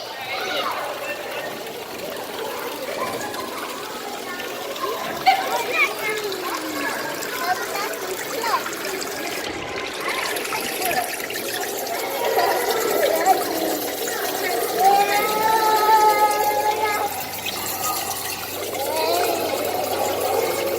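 A phone sits engulfed in a laminar stream of water, giving a continuous, muffled watery trickle and gurgle that swells slightly toward the end.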